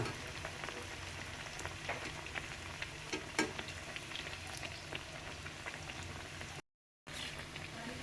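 Chana dal vadas with greens fry over a low flame, a steady close crackle of bubbling oil with scattered pops running throughout, briefly cut off near the end.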